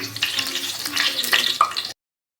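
Leftover rice vada frying in hot oil, a close, crackling sizzle with sharp pops for about two seconds before cutting off to silence.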